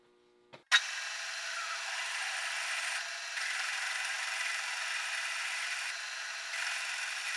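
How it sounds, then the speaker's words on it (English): A 21/32 drill bit boring out a pilot hole in 1-inch steel plate on a machine, a sudden start then a steady, loud, continuous grinding hiss with no talk. "So now that I got my pilot hole in, I can just drill this out"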